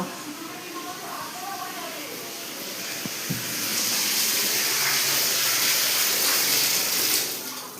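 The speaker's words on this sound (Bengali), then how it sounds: "আমি আবার বাথরুমে জল চালিয়ে চলে এসেছি, ভুলে গেছি জল চালিয়ে।" A bathroom tap runs steadily, a soft rushing hiss that grows louder midway and holds. A voice talks quietly over it.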